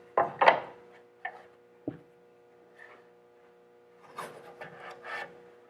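Wooden clamping cauls are slid along a freshly glued tenon joint in a woodworking glue-up. Close, dry rasping rubs come in short separate strokes, then a rougher cluster of scrapes near the end, with quiet gaps between.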